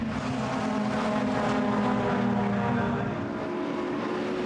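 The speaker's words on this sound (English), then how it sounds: "In the Super Touring Car Trophy, Race 1 victory went to Frank Rathel in the Audi 80" An Audi 80 Super Touring race car runs at Silverstone, a steady droning engine note with sustained tonal harmonics, heard at a moderate distance and continuous throughout with no speech.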